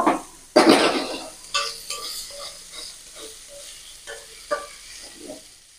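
Yardlong bean paste cooking with shrimp in a pan, with a soft sizzle under repeated scraping and clinking strokes of a spatula against the metal at an uneven rhythm.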